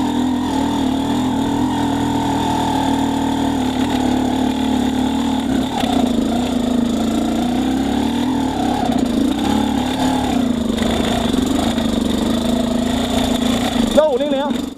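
An XTNG GEN3+ 36 motorcycle in first gear runs at very low RPM, its engine giving a close, steady low drone whose pitch wavers gently up and down without a break.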